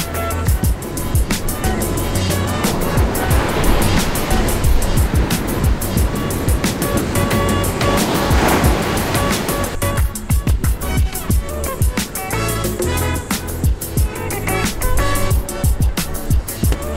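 Heavy shore break pounds a beach under an offshore wind, loud continuous surf roar and crashing water filling the whole stretch, with rushes of churning whitewater and no voices.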